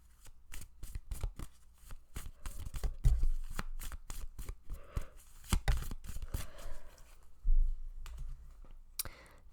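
A deck of tarot cards is shuffled close up, a long series of rapid riffling clicks and soft slaps in irregular bursts with brief pauses.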